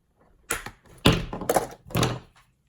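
Packaging around a Jakks Pacific World of Nintendo Parabones toy from Super Mario World is being cut: four short, crackly bursts of plastic being snipped close by, separated by brief pauses.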